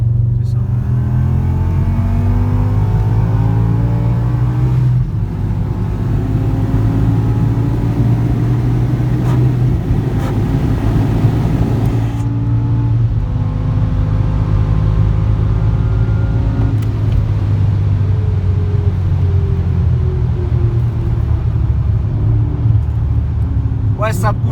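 A supercharged BMW M5 E60 engine roars steadily under hard acceleration, its deep rumble and rising supercharger whine continuous and loud throughout.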